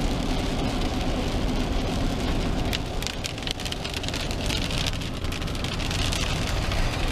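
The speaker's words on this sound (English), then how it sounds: "I think the rainstorm is just over us" Steady heavy rain falling and pattering on surfaces during a rainstorm, loud and continuous with dense drumming close by throughout.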